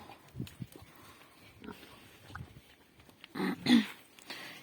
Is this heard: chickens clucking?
no